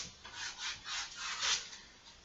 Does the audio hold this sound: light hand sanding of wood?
yes